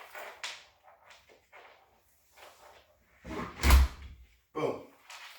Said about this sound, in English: I'm going to pull my door stopper out